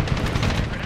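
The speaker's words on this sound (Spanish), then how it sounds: "nos están disparando" Rapid bursts of gunfire in the video game Medal of Honor rattle continuously in a dense, noisy stretch, with a voice faintly underneath.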